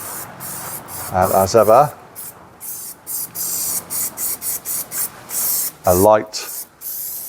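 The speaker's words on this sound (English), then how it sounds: "and then I'll give it a coating of the Raptor, same as what I've done on the underside of the car." Aerosol can of Raptor protective coating sprayed onto a Jaguar XKR prop shaft, a steady close hiss running through with short bursts, while someone talks briefly twice.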